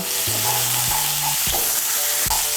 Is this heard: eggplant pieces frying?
yes